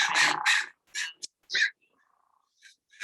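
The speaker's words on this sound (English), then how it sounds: "So some crows joining in with the cacophony there." Crows cawing in a few short harsh bursts, one loud close call followed by fainter, sparser caws against otherwise quiet surroundings.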